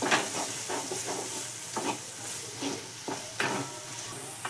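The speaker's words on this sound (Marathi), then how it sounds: "आता आपण हे मसालेत ना हे याच्यामध्ये सगळे टाकून घेतोय आणि पूर्ण असं परतून घ्यायचं" Spice masala being sautéed with fried onion and tomato for a spicy potato curry, a steady sizzle broken by several scraping stirs, close and moderately loud with no talk.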